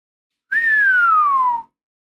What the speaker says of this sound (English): sorry for that loud whistle